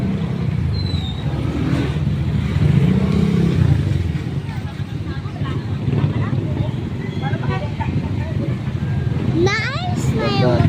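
A motorcycle engine passes along a busy roadside market at a subdivision exit in Naic, Cavite, a steady motor drone with traffic noise, rising briefly as it nears, while people talk close by.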